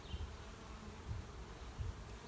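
Honeybees buzzing around an open hive during a midsummer check: a faint, low, continuous hum with a few brief swells as individual bees pass close.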